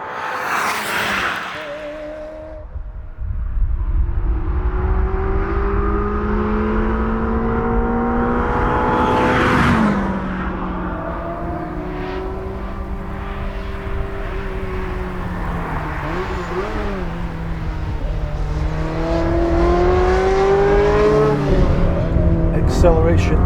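A Ferrari 360 Modena accelerates hard from inside the cabin, its engine note climbing steadily through the gears with brief dips at each shift, loud and continuous, while people talk over it.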